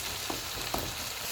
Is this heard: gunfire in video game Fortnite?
no